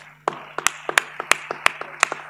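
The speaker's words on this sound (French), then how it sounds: "Vos applaudissements, s'il vous plaît." Sparse, separate hand claps from a small audience at an evening ideas event, about a dozen sharp claps in a loose uneven rhythm over a steady background hum.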